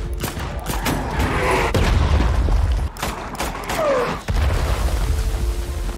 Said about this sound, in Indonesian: Nick terkena ledakan bom yang ditembakkan.